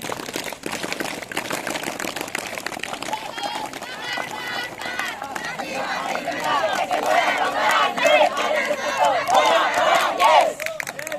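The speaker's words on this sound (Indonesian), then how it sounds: "tepuk pramuka." An audience performs the rhythmic tepuk pramuka scout clap during a traffic rules outreach session in Samalantan, Bengkayang, with crowd voices and shouts mixed into the clapping, growing louder toward the end.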